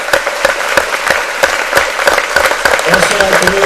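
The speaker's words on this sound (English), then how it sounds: "Let's give him a round of applause." Audience applause at a school dedications and thank-you event, dense clapping throughout with a few voices mixed in, moderately loud and steady.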